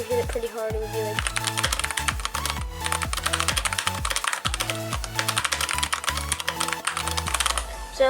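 Hard, fast keystrokes on a Redragon K552 Kumara mechanical keyboard, a dense run of loud clacking taps close up, with a few low tonal sounds sitting underneath.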